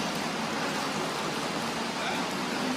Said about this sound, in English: I was hoping this was going to be a couple minute rain, but this is feeling like it might be for the rest of the night rain